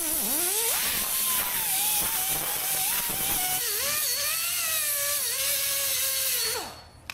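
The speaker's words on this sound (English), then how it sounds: "Trying to drill a hole, ain't working." A drill works at a 1.25 inch hole in an axle, its motor whining and wavering in pitch as the bit bogs and catches, running steadily for about six seconds before spinning down.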